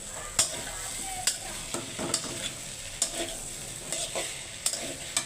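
Okra (bhindi) frying in a wok, a soft continuous sizzle with sharp periodic scrapes and taps of a spatula stirring against the metal, close and unaccompanied by speech.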